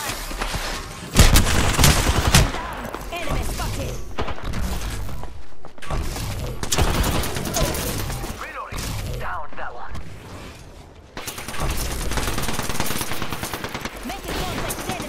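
Rapid automatic gunfire from Apex Legends, loud and close, bursts of machine-gun fire and impacts with brief pauses and a reload gap, under lively player chatter.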